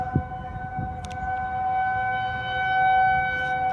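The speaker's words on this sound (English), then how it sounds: "listen to the 2001 SR&Bs and the Eclipse 8s in the background" 2001 SRB and Eclipse 8 civil defense sirens wail steadily in the distance as a faint, sustained tone over low background rumble and a few brief knocks nearby.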